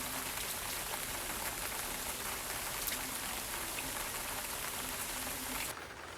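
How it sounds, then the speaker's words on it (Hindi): Heavy rain pours steadily at a campsite during a thunderstorm, a dense continuous hiss of drops that stays loud and even throughout, then drops off abruptly near the end. "बारिश बहुत ज़्यादा आ चुकी है"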